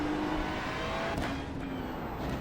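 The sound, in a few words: Porsche race car engine in iRacing video game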